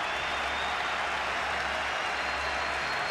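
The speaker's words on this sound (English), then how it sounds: "Gets good support from the Pindi crowd" Steady, distant roar of a cricket crowd applauding at Rawalpindi, a continuous wash of clapping and cheering from a large stadium audience without pause, fairly faint and even throughout.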